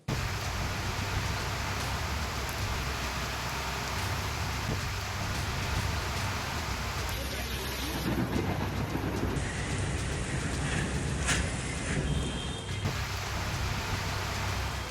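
Steady, dense rain pours over Pune during an unseasonal downpour at the height of summer, a continuous loud hiss and patter with no pauses and no voices throughout.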